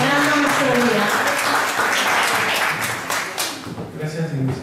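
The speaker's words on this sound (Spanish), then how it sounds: "un fuerte aplauso para él" An audience at a Women's Day poetry recital applauds a welcomed performer, clapping running under a voice that talks over much of it, thinning out near the end.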